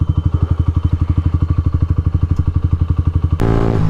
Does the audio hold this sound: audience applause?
no